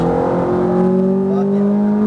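A Ferrari F430 pulls hard on a race track, its engine a loud, close, sustained drone whose pitch climbs steadily as it accelerates.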